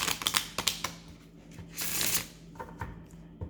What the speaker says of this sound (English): So now I'm going to take an oracle card.